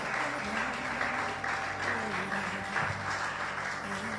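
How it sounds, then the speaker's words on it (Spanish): Church congregation applauding at a worship service, with sustained clapping over a low musical hum and a faint voice underneath. "Oh, por favor, alguien aplauda al Rey de Reyes"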